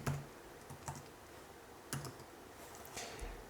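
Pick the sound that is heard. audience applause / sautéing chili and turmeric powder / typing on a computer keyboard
typing on a computer keyboard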